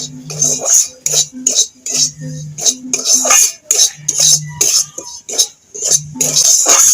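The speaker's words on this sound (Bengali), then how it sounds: "সুজিটা এবার আমি ভেজে নেব।" Semolina roasting in ghee is stirred with a metal spoon in a pan, giving a steady run of close, loud scraping and clinking strokes in irregular bursts, with no talk.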